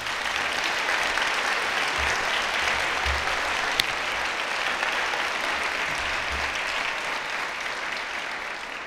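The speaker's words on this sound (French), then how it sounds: "Applaudissons nos invités d'honneur." Audience at a university science faculty graduation ceremony applauding the honoured guests, a steady, dense wash of clapping from many hands that holds evenly throughout without pause.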